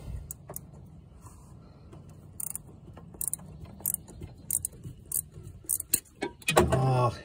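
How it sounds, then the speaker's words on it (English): A ratchet wrench clicks on the oil filter adaptor of a Jeep XJ Cherokee 4.0, a faint run of small ticks and metallic clacks that grows into a louder clattering burst at the end. "got the ratchet wrench on there."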